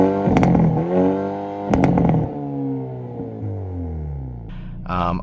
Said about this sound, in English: So I think the tone of the exhaust is great.